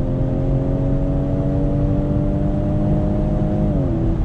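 A Ford Edge ST SUV accelerating hard onto a highway, with a loud, steady engine drone that climbs in pitch and then drops sharply as the transmission downshifts near the end.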